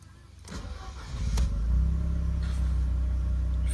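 A Mercedes W202 C180 engine cranks briefly, catches and settles into a steady, loud, low idle rumble close by, with no talking.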